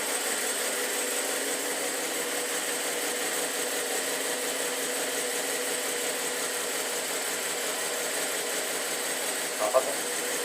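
A 2010 Holden Commodore engine runs at a steady idle right after installation, a continuous even hum throughout with a brief click near the end.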